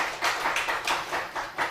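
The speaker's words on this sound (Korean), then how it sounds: "우리 하나님께 감사의 박수 한번 칩시다." A church congregation applauds together during a Christmas thanksgiving service, a steady wash of many hands clapping in uneven bursts that swell and ease over a couple of seconds, with no one speaking.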